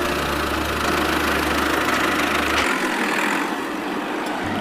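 A tractor engine idles with a steady, close low rumble and mechanical knock; the deep drone drops away about halfway through while a lighter engine hum continues to the end.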